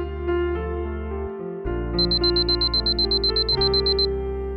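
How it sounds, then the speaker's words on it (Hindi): A rapid series of high electronic beeps from a water-drinking reminder alarm sounds for about two seconds over a sustained background tone. "ये आवाज कैसी है? अलार्म है पानी पीने का।"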